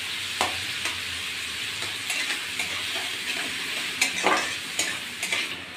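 Chopped onions frying in butter in a pan, a soft continuous sizzle broken by occasional light scrapes and taps of stirring, heard at close range without talk.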